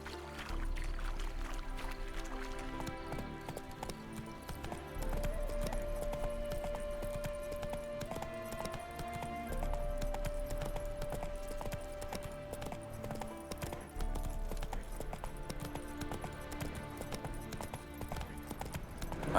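Hooves of Roach, a horse in The Witcher 3, clip-clopping at a steady walking rhythm under a droning musical score, fairly quiet and continuous throughout.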